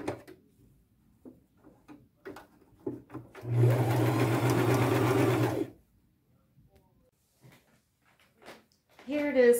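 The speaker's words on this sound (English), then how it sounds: "this is a great machine to start with" A sewing machine stitches tulle for a boho wedding dress in one steady, loud burst of about two seconds, with quiet talk and handling noises before and after.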